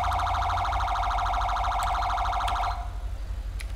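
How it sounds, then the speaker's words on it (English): A police siren in the video game FivePD, a GTA V mod, gives a rapid yelping warble that pulses continuously for nearly three seconds, loud and close, then cuts off, leaving engine hum. "Why did you just yelp your siren?"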